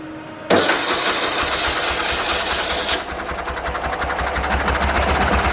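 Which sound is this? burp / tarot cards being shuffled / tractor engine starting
tractor engine starting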